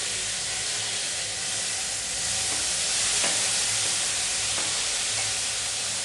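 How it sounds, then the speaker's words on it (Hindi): Onion and tomato frying in oil in a home kitchen pan, a steady broadband sizzle and hiss with occasional stirring scrapes, close and continuous without speech. "टमाटर डाल रहा हूँ क्योंकि वो उछलेगा।"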